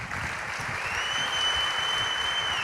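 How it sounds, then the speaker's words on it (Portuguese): Church congregation applauding steadily, a dense even wash of clapping that holds at one level throughout with no talk over it. "podemos aplaudir esse pessoal?"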